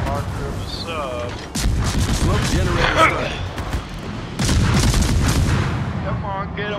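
Naval gunfire in World of Warships, with many ships firing at one vessel: repeated deep booms and crackling shots, loud and close, along with rumbling sea-battle noise, with a voice talking at times.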